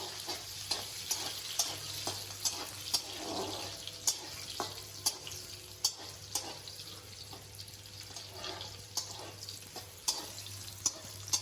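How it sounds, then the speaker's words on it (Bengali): Cashews and raisins fry in oil, which sizzles steadily with frequent sharp crackles and pops, a close, continuous frying hiss with stirring clicks and no voices. "কাজু কিশমিশ আমি আগে থাকতে ভিজিয়ে রেখেছিলাম, সেটাই আমি ভেজে নেব।"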